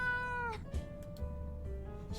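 A cat meows in the survival video game 60 Seconds, a drawn-out tonal meow over a low game hum, followed by softer short sounds.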